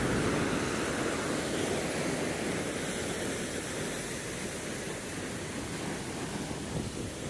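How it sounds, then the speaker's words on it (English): Ocean waves roll into a small channel at the north beach of Nha Trang, Vietnam, making a steady, dense wash of surf that stays loud and unbroken throughout, with no voices. "So you got a little channel here with some waves coming in."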